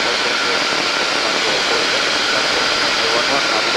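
A light aircraft engine runs at 4,500 RPM in cruising flight at about 78 knots, giving a loud, constant droning roar with cabin wind noise and no change in pitch.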